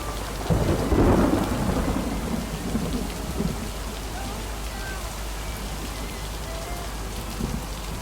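Thunderstorm in the video game Lake: a low rolling thunder rumble swells near the start over steady, even rain that keeps pattering through to the end.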